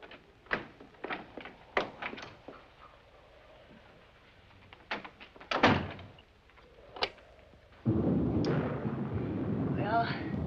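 An interior door closes with a few solid knocks and thuds, set among scattered clicks and handling sounds in a quiet room. A louder rushing noise follows.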